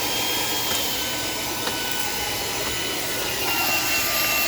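A Shark Power Detect IP1251 vacuum cleaner runs indoors with a loud, steady motor roar and rushing airflow, a few faint clicks and knocks breaking through as it moves.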